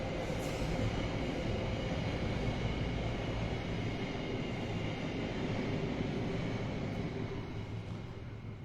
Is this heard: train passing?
yes